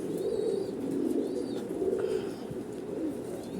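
Koka pigeons cooing steadily in a loft with eggs and chicks, soft low throaty coos repeating in a continuous rolling rhythm, fairly close, with faint chirps above and no talk.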